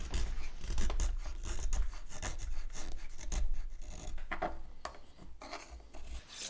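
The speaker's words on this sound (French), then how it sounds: "On entend bien le rabot chanter." Hand plane shaving a square-to-octagonal wooden bow stick for a stringed-instrument bow in a workshop, giving a continuous close rasping, scraping hiss in repeated strokes with no talk.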